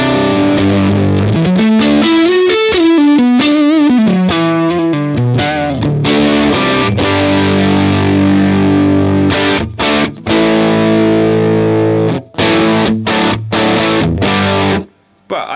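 An electric guitar runs through a Line 6 Helix amp model set for a classic rock tone. Distorted chords and riffs play loud and upfront, ending in choppy stabs with brief silent gaps.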